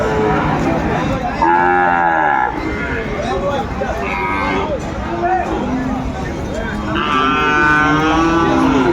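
Several Sahiwal bull calves moo in drawn-out, wavering calls at a cattle market, amid steady background chatter of a crowd, with voices talking throughout.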